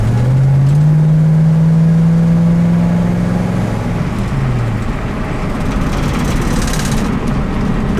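A 1966 Ford Mustang drives along steadily, its engine a low, continuous drone that rises in pitch as it accelerates, then settles into steady road and wind noise, close and loud.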